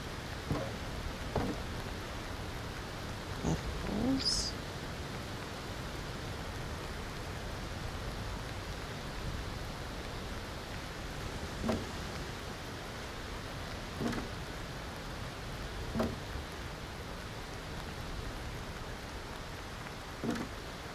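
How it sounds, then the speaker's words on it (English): Rain falls steadily in the survival video game Aloft, a soft, continuous hiss with occasional faint drop-like ticks, quiet and without talk. "It's raining."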